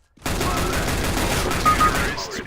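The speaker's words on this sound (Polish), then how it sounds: "W końcu jakieś strzały tu były" A dense burst of rapid gunfire in the video game Overwatch erupts after a brief silence and keeps rattling steadily for about two seconds, loud and close.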